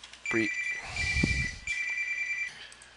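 Mobile phone ringtone from an incoming call, a bright electronic tone repeating in bursts, with a brief knocking clatter in the middle.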